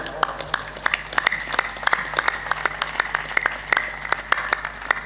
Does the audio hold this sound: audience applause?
yes